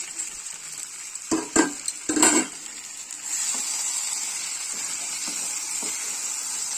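Fried fenugreek leaves are stirred into chicken cooking in a pan with little oil. A few quick scraping, clattering stirs come first, then a steady frying hiss settles in at moderate level.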